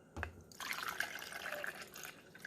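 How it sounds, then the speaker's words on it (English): Water poured into the reservoir of a SBOLY/SURIPOW single-serve coffee maker from a coffee cup, a short splashy pour with a thud at the start, then a steady bright trickle for about two seconds. "So I'm going to pour my water in."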